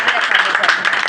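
Church congregation clapping together during an Easter Sunday service, a brief dense burst of applause close and fairly loud, with no clear talk over it.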